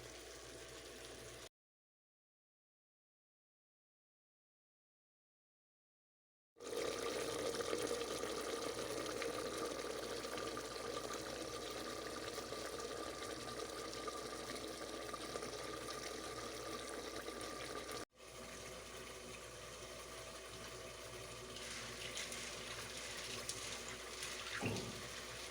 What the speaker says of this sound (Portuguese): secou esse caldinho aqui, coloco mais um pouquinho de água